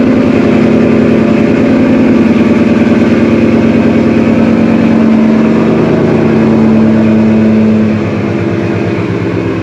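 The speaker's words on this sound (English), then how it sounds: "so now this is his car idle" A catless Ford Mustang Mach 1 with long tube headers idles close by, a loud, steady, deep rumble with a throbbing pulse that eases slightly in volume near the end.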